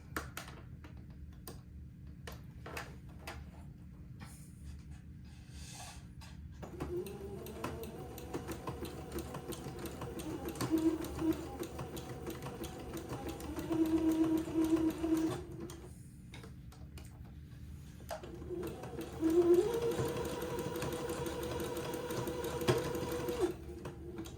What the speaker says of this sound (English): Now I'm going to come back with my sewing machine set to a zigzag, and I'm going to zigzag this entredot into place.